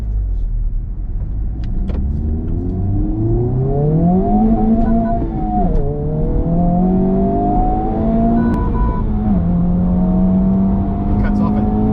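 A car passes on the road, its engine note rising and shifting through gears in a loud, close, continuous rumble with pitch sweeps up and down, and a voice talks over it.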